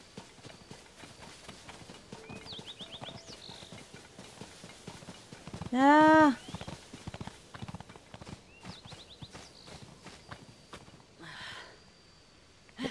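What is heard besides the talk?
horse hooves, from a video game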